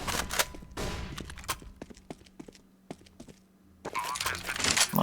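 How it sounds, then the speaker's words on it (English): In a tactical shooter game, a flashbang goes off among sharp, close cracks and bursts of gunfire, with a short quieter stretch before the noise swells again near the end. "Deploying flashbang."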